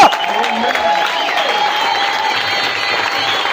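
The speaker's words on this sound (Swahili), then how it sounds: "Makofi na vigelegele tena kwa Yesu." Sustained applause from a church congregation, mixed with wavering high ululation cries, forms a continuous loud wash of crowd noise.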